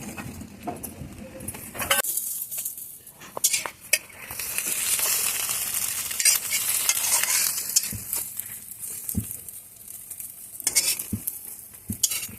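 Eggs stirred and scraped around a frying pan over lowered heat, with repeated spatula scrapes and knocks over a steady sizzle of frying.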